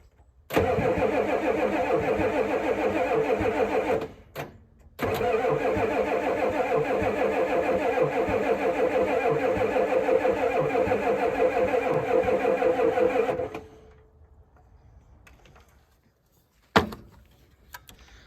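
A 1988 Ford F350 with a 7.3 IDI diesel engine cranks loudly and steadily for several seconds, pauses briefly, then cranks again for a long stretch before cutting off, followed by quiet and a short knock.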